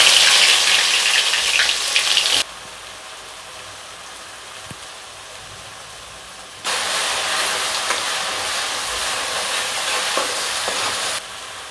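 Chopped onion hits hot oil in a kadhai with a loud, hissing sizzle for a few seconds, drops to a quiet bubbling, then flares into steady crackling frying again while being stirred, as when starting a spicy egg chutney.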